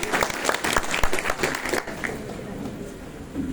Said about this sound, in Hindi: इन लोगों के लिए भी जो है जोरदार ताली होना चाहिए।